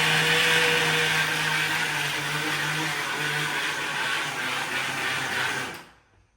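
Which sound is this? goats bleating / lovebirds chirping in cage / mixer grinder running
mixer grinder running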